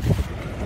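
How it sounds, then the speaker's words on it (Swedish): An archipelago boat passing at Saltholmen in Gothenburg, heard as a low, rumbling wash of engine and water with wind noise, close and fairly loud for a brief moment. "Och här har vi skärgårdsbåt."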